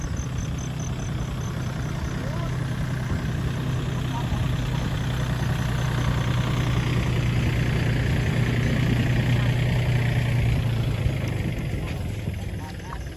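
A farm tractor engine idles close by in a steady, low rumbling drone that holds evenly throughout.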